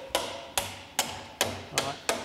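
A hammer drives a damaged wheel pin back out on a German Kettenkrad half-track. Six sharp metallic blows land close by at an even, steady pace, each ringing briefly, with no talk.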